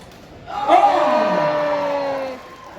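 A crowd in the audience at a comic convention panel in Birmingham breaks into a burst of cheering and whooping that swells quickly and holds for about two seconds before fading.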